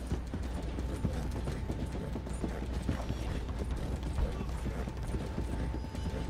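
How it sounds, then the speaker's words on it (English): Horse hooves in Red Dead Redemption 2 clatter in a dense, steady clip-clop at a run, mixed with mechanical rattling and a faint constant tone. The sound is continuous and fairly loud, with no talking. "Why are you not going fast, horse?"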